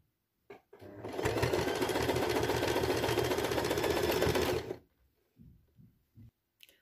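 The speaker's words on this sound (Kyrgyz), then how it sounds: "Ушундан улам эле кайрадан акты улап тигебиз." Sewing machine stitching a row of fabric, a steady loud motor whir with rapid needle clatter for about four seconds, then stopping, followed by a few brief quiet handling sounds.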